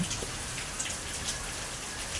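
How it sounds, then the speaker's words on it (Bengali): First rain of the year falling in Pabna Sadar, Bangladesh: steady, even hiss of rainfall with scattered droplet taps, continuous and fairly close, with no voices. "পাবনা সদরে আজকে এই বছরের প্রথম বৃষ্টিপাত হচ্ছে"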